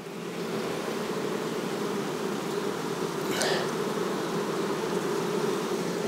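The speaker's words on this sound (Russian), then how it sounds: "Вот такая пчелка у нас. Красивая, симпатичная пчелка." Buckfast honeybees buzzing steadily at a hive, a continuous close drone holding level throughout with a brief brighter swell midway.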